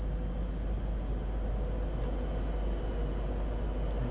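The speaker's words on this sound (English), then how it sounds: "That's the door alarm." Steady high electronic door alarm tone from a Class 390 Pendolino train on the West Coast Main Line in Train Simulator, sounding continuously over a low rumble of cab and engine noise.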